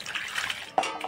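Cut pointed gourds (potol) are washed in water: a brief splashing and sloshing, with a light clink near the end.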